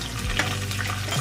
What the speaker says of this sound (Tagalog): Tapos lutuin na natin yung ating bawang